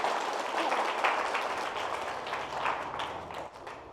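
An audience at a Buddhist vihara gathering in Raipur breaks into steady, dense applause, many hands clapping together at an even level throughout.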